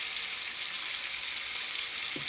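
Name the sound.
chicken with yogurt sautéing in a pan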